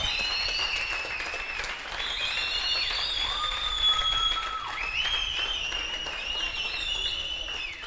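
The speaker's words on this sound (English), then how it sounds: "Clap, whistle, make some noise" A racquetball crowd at the Pan American Championship finals claps, whistles and cheers, with several sustained whistles rising and sliding above a continuous, even wash of applause.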